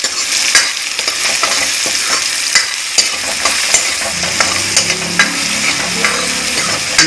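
Tomatoes for rava upma sizzle and soften in an oiled pan, a steady crackling fry broken by regular spatula scrapes and taps, with no talk.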